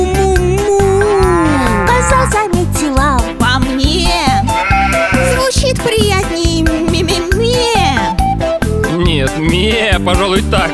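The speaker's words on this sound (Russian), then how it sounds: "Корова замычала" A cow's moo sounds within a lively children's farm-animal song, a low drawn-out gliding tone over loud, busy music with a steady beat and sung melody throughout.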